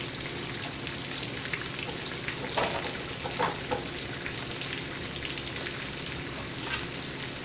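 Flounder fillets fry in hot oil with a dense, steady sizzle and bubbling that fills the whole stretch. A few brief clicks or bumps from the pan rise faintly above it. No one speaks.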